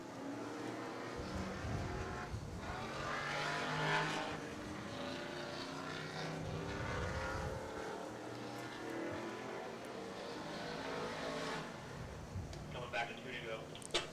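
A Chevy S10 Blazer racing laps in a spectator event at Hudson Speedway, its engine droning and rising as cars circle the oval, with an announcer talking over the noise throughout.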